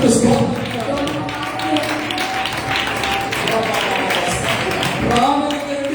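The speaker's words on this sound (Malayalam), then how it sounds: "കൈയടിച്ച് ദൈവത്തിന് സ്തോത്രം." A church congregation clapping hands in praise during Sunday worship, a continuous loud crowd clapping with music and voices blending underneath throughout.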